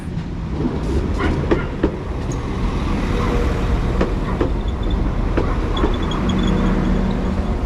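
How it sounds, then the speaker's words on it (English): A Class 197 diesel train, unit 197045, pulls into a station on the Carmarthen to Pembroke Dock line as a service to Swansea, with a steady rumble and occasional clanks and rail clicks throughout. "arriving now is the delayed 11:52 service to Swansea, 197045"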